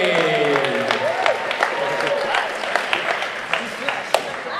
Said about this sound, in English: One more round of applause for Sebastien Bonmalais.